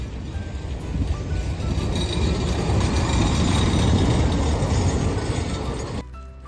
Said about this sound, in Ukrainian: Ой, подивіться! Їде трамвайчик!